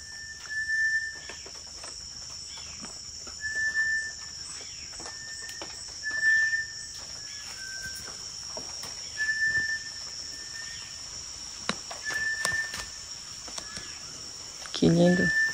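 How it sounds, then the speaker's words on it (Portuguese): A bird in the Amazon sings a clear, repeated whistled note about every two to three seconds against a steady insect hum, with a brief clatter near the end. "tô tentando mostrar pra vocês agora o canto desse pássaro"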